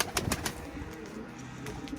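Pigeons coo softly near a coop as they are herded inside during a flight session, with a few brief wing flaps and taps early on; the sounds are faint and fairly close.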